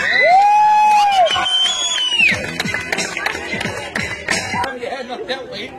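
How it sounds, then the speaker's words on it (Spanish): A lively crowd at an informal outdoor music performance cheers, whistles and claps loudly, with shouts and chatter mixed in, the noise tapering somewhat after a few seconds. "¡Vamos al aplauso!"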